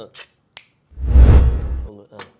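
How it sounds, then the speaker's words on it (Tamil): A single crisp finger snap rings out near and loud, preceded by a couple of short clicks and followed by a brief voice; a burst of louder noise fills the middle of the moment. "சார் சார் ஒரு சொடக்கு போட்டுங்க"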